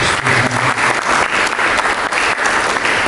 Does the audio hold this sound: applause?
yes